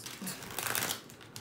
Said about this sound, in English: let's go ahead and start shuffling the cards